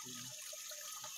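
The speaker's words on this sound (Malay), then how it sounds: "anak sungai ni mengalir dengan deras." Swift stream water rushing steadily in the Ulu Tamu area of Batang Kali, Selangor: a continuous close hiss of flowing current with no talk over it.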